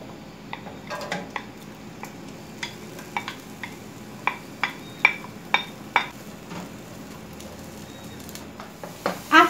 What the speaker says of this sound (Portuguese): eu vou começar colocando aqui o óleo para a gente fritar o alho e a cebola